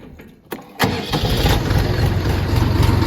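Kentavr F-244 minitractor engine starting with a key: a brief cranking click, then the engine catches and settles into a loud, steady, close idle rumble.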